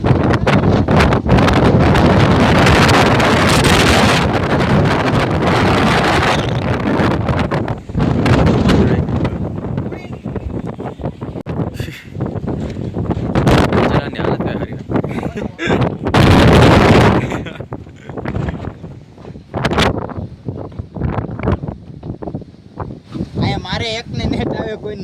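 Strong wind buffets the microphone at a hilltop temple on Girnar, roaring in loud gusts that rise and fall throughout, with people talking over it at times.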